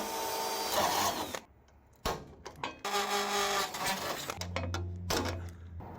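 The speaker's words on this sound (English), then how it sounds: "So let's drill it and rivet it." Loud power-tool whirring in several bursts separated by short pauses and sharp clicks, as metal on a 1949 vintage camper is drilled and riveted.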